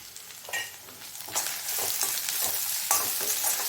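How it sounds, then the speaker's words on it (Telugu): Turmeric and coriander powder fry in a small amount of oil in a pan, a close, steady sizzle punctuated by several brisk scraping stirs of a spoon against the pan, with no voices. "పచ్చి వాసన పోయే వరకు కొంచెం ఫ్రై చేసుకోండి."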